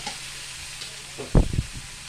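Brinjal, ivy gourd and tomato fry together in a pan for a pachadi, giving off a soft, steady sizzle. A brief clatter of a utensil sounds midway, and no one speaks.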